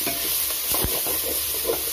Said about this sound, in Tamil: நல்லா கலருவோம்.